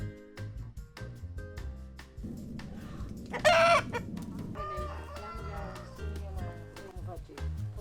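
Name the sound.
chickens clucking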